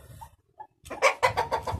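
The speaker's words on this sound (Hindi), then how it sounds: "ये आ गई दूसरी मुर्गी" A hen clucks in a quick run of short, rhythmic pulses, close and fairly loud after a moment of quiet.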